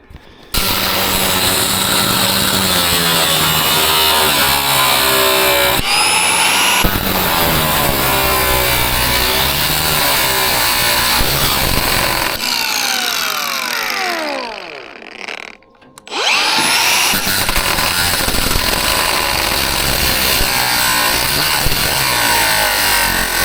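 An angle grinder works on the body panels of a Scania 143H truck under restoration, a loud continuous high whine with shifting pitch as it bites the metal, briefly spinning down and cutting out before starting again.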